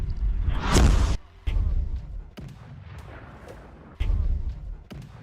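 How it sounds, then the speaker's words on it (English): Artillery firing in a Russian barrage on Ukrainian positions, with a heavy roaring blast followed by several sharp booming reports at uneven intervals, loud and rumbling. "Russian commanders answer with their own barrage, ordering artillery to strike Ukrainian positions"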